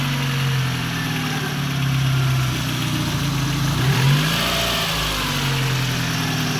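A warmed-up car engine runs steadily nearby, idling with a low rumble and rising briefly in a couple of short revs.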